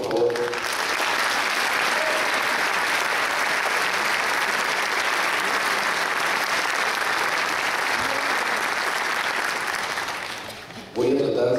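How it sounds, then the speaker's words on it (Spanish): Audience applause at a Rarámuri (Tarahumara) folkloric ballet performance, a long, dense, steady wash of clapping that fades out near the end before a voice returns briefly. "Otro aplauso, por favor."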